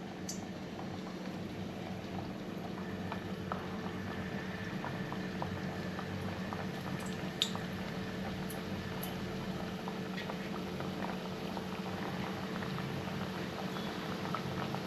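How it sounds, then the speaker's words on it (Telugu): Oil sizzles and bubbles steadily as cut biscuit dough fries in a bowl of hot oil, a soft continuous crackle with faint pops, fairly quiet and with no talking. "బౌల్లో ఆయిల్ తీసుకొని ఆయిల్ కొంచెం వేడైన తర్వాత మనం కట్ చేసి పెట్టుకున్న బిస్కెట్స్ని ఇందులో వేసేసుకుందాం"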